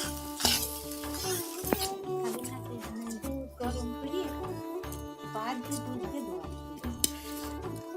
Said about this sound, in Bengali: ভেজে নেওয়া হচ্ছে যেন ভাতগুলো নষ্ট না হয়